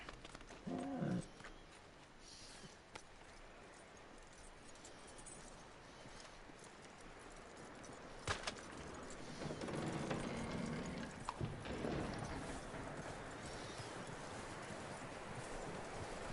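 Horse hooves clip-clopping in the video game Red Dead Redemption, a quiet rhythmic series of hoof steps with a few louder thuds and creaks, set against a low ambient background.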